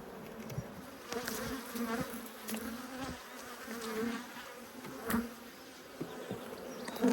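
Honey bees buzz around an open hive during an apiary inspection, a dense, continuous drone rising and falling as individual bees fly close by, fairly quiet overall with no speech.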